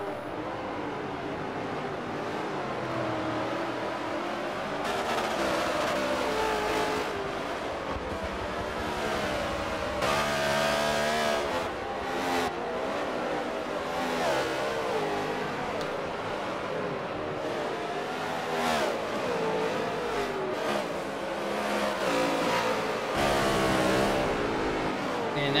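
NASCAR Cup race cars in a video game race at COTA, engines droning and revving continuously as several cars battle closely, loud and steady under commentary.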